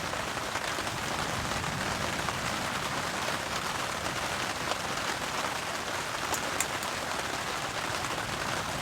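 Heavy rain drums steadily on a car and tarp at a campsite during a storm, a dense, loud, continuous patter with no pauses.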